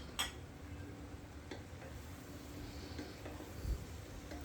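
Vegetable curry with lentil fritters and rohu fish being stirred and sautéed in a pan, soft scraping and faint sizzle with a couple of sharp utensil clicks, quiet and close, no talking.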